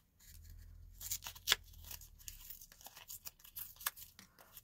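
Scissors snip small paper shapes for a handmade card, giving several short crisp cuts and crinkles close by over a low hum, with no talk.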